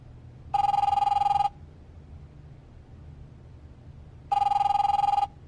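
Old-style telephone bell ringing in The Wolf Among Us video game: two bright trilling bursts about a second each, separated by a pause, over a faint low hum.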